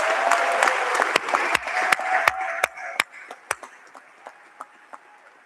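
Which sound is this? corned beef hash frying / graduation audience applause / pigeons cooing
graduation audience applause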